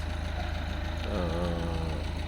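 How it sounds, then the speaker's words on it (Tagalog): A car engine idles steadily while warming up before dawn on a car-camping trip, a close, even low throb with a rhythmic pulse and a faint whine rising briefly midway. "So pinaiinit lang natin yung makina ni Tuktok."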